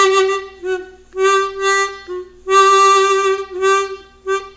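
A chromatic harmonica holds a few sustained notes with an uneven, wavering beginner's vibrato, the pulsing loudness swelling and dipping irregularly, close and clear with no talk.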